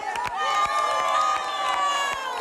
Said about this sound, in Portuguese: qual é o melhor aplauso que nós damos a estes dois cantores?